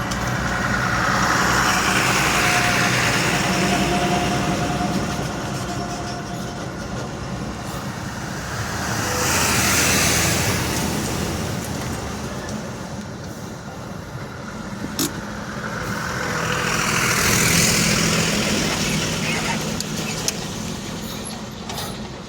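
Night traffic jam on the Bangriposi ghat road: a steady rumble of cars, buses and trucks, with passing vehicles swelling louder around the middle and again near the end, and no talking.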